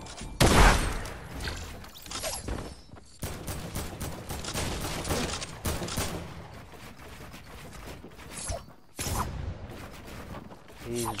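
Deagle pistol shots in a Fortnite match ring out in sharp repeated bursts through a busy game mix, close and loud, with a commentator talking excitedly over them.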